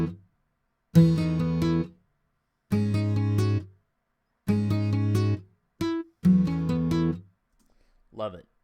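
Strummed acoustic guitar with buzz release from Evolution Songwriter, full chords strummed in four repeated bursts with gaps between, bright and close, with short buzzy release notes.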